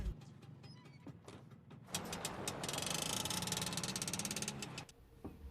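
A three-wheeled motorbike engine in the film The American starts up with a few knocks and clanks, then runs with a loud rattling, sputtering roar for several seconds before it drops off abruptly.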